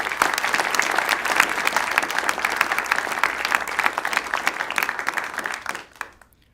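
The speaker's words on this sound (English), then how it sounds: "I think that deserves a round of applause to the Hubble team" An audience at a NASA headquarters science briefing applauds the Hubble team, a dense, steady wash of many hands clapping close by that fades out near the end.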